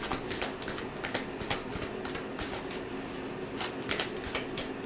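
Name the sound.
tarot cards being shuffled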